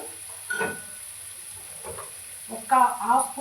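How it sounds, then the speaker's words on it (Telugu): Ginger garlic paste fries in a pan, giving soft sizzling with brief bursts of stirring and a louder crackling flare near the end. "అల్లం వెల్లుల్లిపై పేస్ట్ వేయాలి అది ఫ్రై అయిన"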